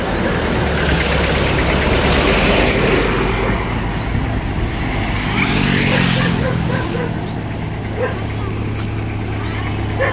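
A jeep engine idles with a steady low rumble throughout, while people chat nearby over it on a trip toward Tubigon.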